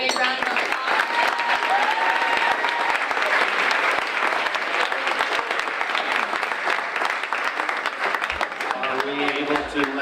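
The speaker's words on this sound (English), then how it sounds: "let's give everybody up here a big round of applause" Audience applause at a small business of the year awards ceremony, a loud, dense burst of clapping that runs the full ten seconds with a few voices mixed in near the end.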